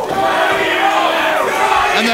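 A wrestling crowd at an indoor match cheers and shouts in a loud, sustained roar, with a commentator's voice faintly present underneath.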